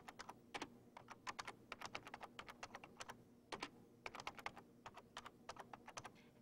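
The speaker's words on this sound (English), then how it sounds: "We type the command phrase," Typing on a computer keyboard while entering an MS-DOS command, a rapid run of close, crisp key clicks in uneven bursts with short pauses, over faint background hum.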